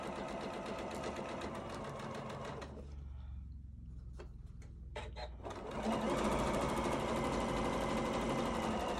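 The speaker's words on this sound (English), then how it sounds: "So I'm just going to sew my seam allowance." Sewing machine stitching the 1/4-inch seam allowance of a fabric face mask with a filter pocket: a dense, rapid motor whir runs for a few seconds, pauses briefly with faint clicks, then resumes louder and steady.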